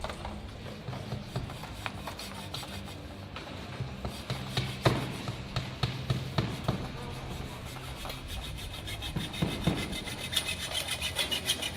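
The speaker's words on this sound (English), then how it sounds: "now he's going to go ahead and cut the EMT with a hacksaw" A hacksaw cuts through EMT metal conduit at an apprentice electrician competition, giving repeated rasping back-and-forth strokes at a steady rhythm, close and moderately loud, over background room noise and faint distant voices.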